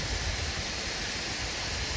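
Steady broadband rush of the Tat Sador waterfall in Mae Ping National Park, a continuous dense roar of falling water with no breaks, fairly loud and unbroken throughout, with no voices over it.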